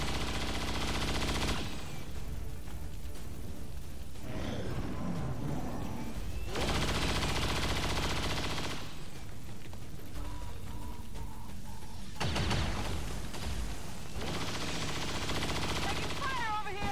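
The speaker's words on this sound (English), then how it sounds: "Suppressing fire on target!" Bursts of suppressing gunfire in XCOM 2, heard as three or four loud sustained volleys of rapid shots separated by quieter stretches with mechanical clatter.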